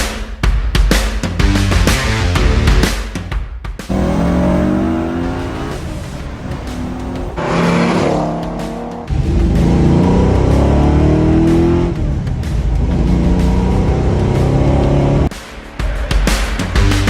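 A 1965 Ford Mustang Fastback muscle car, a Shelby GT350 replica, revs and accelerates hard up close, its V8 engine roaring through repeated surges with brief lifts and gear changes, loud and without talk.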